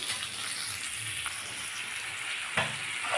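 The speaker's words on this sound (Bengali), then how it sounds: "তেলটা আমার গরম হয়ে গেছিলো, আমি এর মধ্যে একটু পেঁয়াজ, কুচানো পেঁয়াজ আর টমেটো দিয়ে দিয়েছি।" Chopped onion and tomato fry in hot oil, giving a steady close crackling sizzle with a brief louder burst of spattering near the end, as the base for an onion prawn curry.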